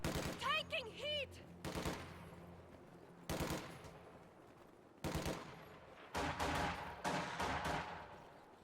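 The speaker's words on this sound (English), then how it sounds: "Machine gun has our range." Machine gun fire and scattered gunshots ring out during a Company of Heroes–style strategy match between Ostheer and Soviet forces, coming in several loud, dense bursts amid battlefield noise, with a brief warbling tone early on and speech faintly underneath.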